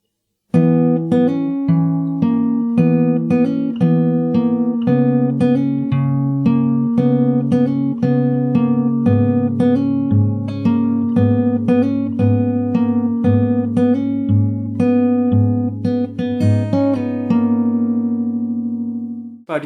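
Fingerstyle acoustic guitar plays the verse of a song, with steady bass notes under plucked chords and melody, continuous and close for about twenty seconds, no talking.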